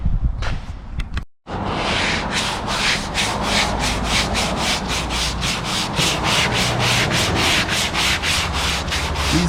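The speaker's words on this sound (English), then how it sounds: "get back to sanding on this." A 1968 Dodge Dart body being hand-sanded in a shop, with steady, evenly spaced back-and-forth strokes rasping close by and no talking.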